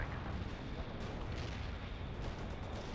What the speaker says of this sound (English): keep those shells coming, Lieutenant. yeah, I guess we'll just keep shooting at them.